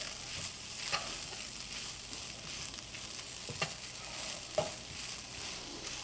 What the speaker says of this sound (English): I add a little butter in there.